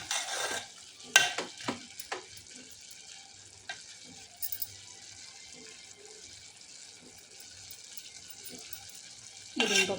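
Bottle gourd pulusu cooks in a pan with a low continuous sizzle as a spoon stirs it, giving a few scraping knocks early on and a louder burst of stirring at the end.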